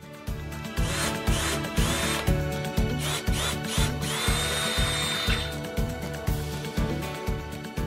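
Power drill boring into a wooden board with a 5.5 mm wood bit while building a DIY Alaia board, heard as close, loud, rhythmic bursts of whining motor and grinding bit repeating steadily.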